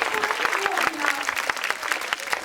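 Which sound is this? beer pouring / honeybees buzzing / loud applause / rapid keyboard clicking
loud applause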